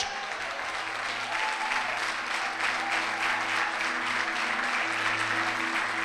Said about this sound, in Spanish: ¡Qué aplauso para el Señor!